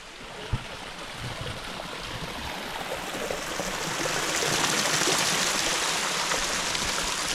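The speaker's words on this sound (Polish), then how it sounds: "Ale fajnie szumi tutaj ta woda." Water rushes over rocks in a stream near Salalah, Oman, a steady broadband hiss close by that swells slightly louder partway through, with no speech.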